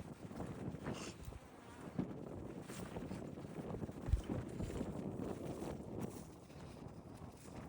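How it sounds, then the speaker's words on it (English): A faint wasp buzz drones steadily under breezy outdoor noise beside a beehive, with a low thump partway through and no voices. "Wasp."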